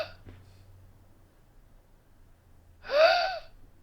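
A person imitates agonal gasping, the irregular breathing of cardiac arrest, with a single loud, harsh, rasping inhalation that rises out of near silence.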